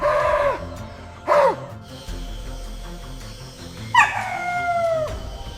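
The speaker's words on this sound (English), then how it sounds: "Above, the macaque sentry barks a warning." A macaque sentry gives loud warning barks in misty rainforest: two sharp harmonic calls, then a third longer, falling bark after a pause, clear against a quiet background.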